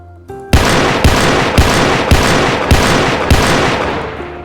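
Roblox gun sounds fire in six loud, evenly spaced bursts, each one a sharp crack with a short tail. A quieter click comes just before the first burst. No voices are heard.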